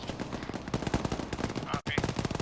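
Rapid automatic gunfire crackles during a military field training exercise, with dense, continuous bursts loud and close, broken by a brief pause, with voices talking underneath.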